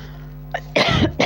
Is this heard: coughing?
yes